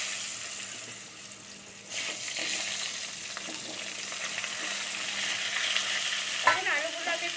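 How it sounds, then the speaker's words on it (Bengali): Potatoes fry in hot oil with bay leaves, dried red chillies and panch phoron, a close, continuous sizzle broken by a spatula stirring and scraping against the pan. "এখন আলুগুলোকে একটু ভাজবো"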